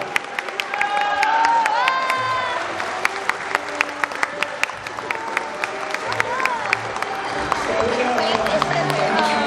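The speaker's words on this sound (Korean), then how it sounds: "자, 여러분들 뜨거운 박수로 우리 신랑을 맞이해 주시기 바랍니다" Wedding guests applaud and cheer loudly as the groom enters a Vietnamese international wedding ceremony, a dense, sustained wash of clapping with shouts and voices mixed throughout.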